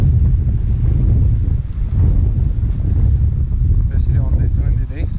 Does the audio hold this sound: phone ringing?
no